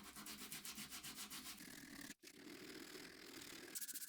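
Wooden mallet handles being sanded by hand, a faint close rhythmic scratchy rubbing with quick regular back-and-forth strokes, briefly pausing midway before continuing steadily.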